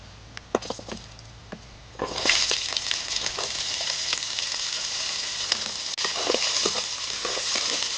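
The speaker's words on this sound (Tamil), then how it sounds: "சிக்கனை எண்ணெயில் பொரிச்சாச்சு அடுத்தது சிக்கன் அதில் போட்டு நல்லா வணக்கலாம்" Chicken sizzling in hot oil with mustard seeds, a light crackle at first that swells into a steady, dense frying hiss with occasional stirring clicks, close and alone.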